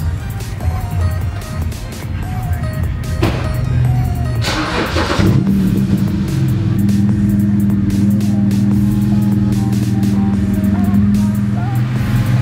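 A BMW 125i E82 with automatic transmission, fresh from a transmission filter and oil service, runs steadily with a loud, continuous engine drone and a brief burst of revving midway, while people talk over it.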